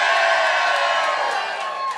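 A live podcast audience cheers and whoops loudly in a steady crowd roar that fades slightly over two seconds, with no talking over it.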